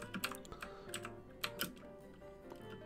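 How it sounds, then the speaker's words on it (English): Loud clicks from a computer keyboard as someone types, close and irregular, with several sharp taps in quick bursts and short pauses between them. "I'm sorry for the clicking too. I hate when I click loud"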